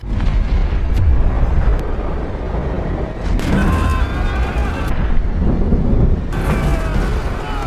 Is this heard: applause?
no